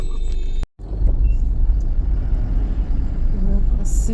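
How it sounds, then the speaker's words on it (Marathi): Weekend evening traffic jam on a road: a steady low rumble of idling and creeping cars, buses and trucks, with one brief dropout to silence and a short hiss near the end. "ट्रॅफिक आहे अजून पूर्ण अंदाज झालेला आहे"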